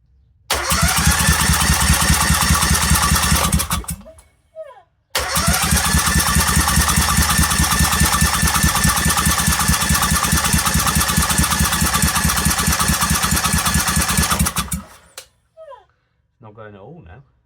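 A Honda GX630 engine running flat out, a loud, close, steady pulsing roar that cuts out briefly, restarts and runs again at full speed before stopping, with short bursts of noise in the quiet gaps.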